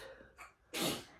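A single sharp sneeze bursts out near the end, preceded by a quick intake of breath, close and fairly loud.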